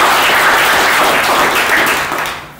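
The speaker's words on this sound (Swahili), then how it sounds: "Makofi tafadhali" Loud, dense applause from an audience at a leadership-training ceremony, steady clapping that fades toward the end.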